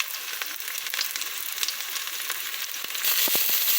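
Garlic fries steadily in a hot pan, a close, continuous sizzle with crackling that grows louder near the end, punctuated by a few stirring clinks.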